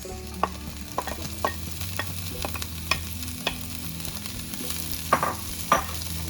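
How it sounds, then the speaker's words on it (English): Daikon radish greens and stems sizzle steadily in a hot pan, with repeated sharp clacks and scrapes of a utensil stirring them at an uneven rhythm, close and moderately loud without talk. "now I'm going to add the greens"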